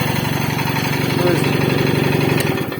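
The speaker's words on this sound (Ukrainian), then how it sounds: "Все воно чітко працює. Ну, звісно, народный компрессор." A homemade air compressor runs steadily with a dense mechanical chugging rhythm, close and loud throughout, fading slightly at the end.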